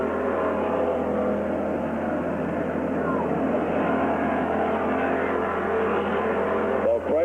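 Race cars circling Gasport Speedway in 1995, a continuous loud engine roar from the pack, heard from the stands with no clear voices over it.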